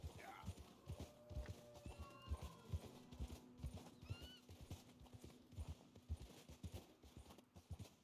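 Horse in the video game Red Dead Redemption 2: steady rhythmic clip-clop of hooves, with a neigh partway through, while a person talks over it.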